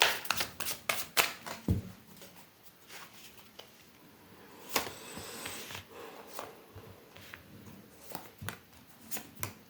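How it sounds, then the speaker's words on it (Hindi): Tarot cards are shuffled by hand in a quiet room, a close series of quick riffling bursts and soft slaps in uneven rhythm. "एक लास्ट शफल।"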